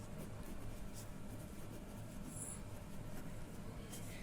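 A teacher writes an answer on a board during a science class, with faint, soft scratching strokes in short bursts against low room hum.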